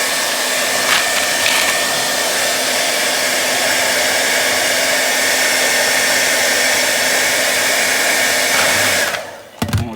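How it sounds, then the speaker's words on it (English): A hair dryer blows hot air steadily onto the plastic window of a Funko Pop box, a loud continuous whir that runs for about nine seconds and then cuts off abruptly. "So let's do the final phase with the hairdryer."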